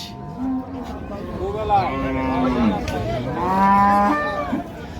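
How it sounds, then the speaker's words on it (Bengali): A cow with her calf moos at a cattle market in Raniganj, giving a series of long, close, drawn-out calls over the steady murmur of the crowd. "আমরা দেখছিলাম এখানে চমৎকার একটি গাভী বাছুর, বেশ সুন্দর কোয়ালিটির।"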